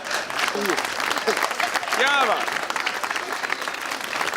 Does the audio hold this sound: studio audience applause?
yes